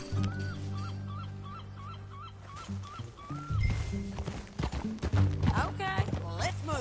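Rhythmic horse hoofbeats clop along beneath the Red Dead Redemption 2 game soundtrack, with tonal sound effects and occasional voices breaking in toward the end.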